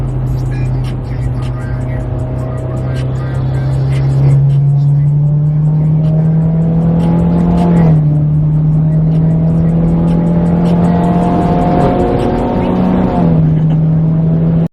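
A tuned BMW G80 M3 and a companion car accelerate hard on a road run, the engine drone climbing steadily, easing off around gear changes and pulling again, loud and close throughout.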